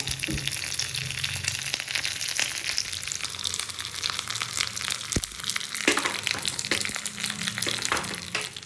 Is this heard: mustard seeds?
yes